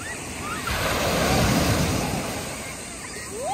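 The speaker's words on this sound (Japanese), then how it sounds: "波の音がいいじゃん" Ocean waves break and wash onto a Sea of Japan shore in a steady, roaring surf that swells louder midway, with soft wind noise over it.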